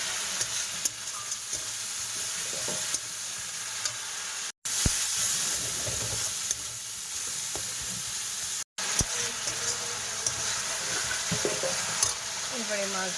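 Spice paste of cumin, chili and coriander being sautéed in a pan, a continuous close sizzle with stirring and scraping, broken by two brief silent gaps.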